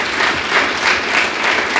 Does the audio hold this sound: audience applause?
yes